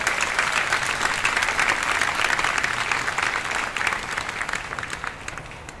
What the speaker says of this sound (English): Please give a big round of applause to Monty Laforte.